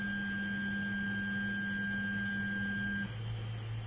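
A 3D printer driving its Z axis upward: a steady electronic motor whine with a sustained tone, which stops abruptly after about three seconds and leaves a low hum. No one speaks.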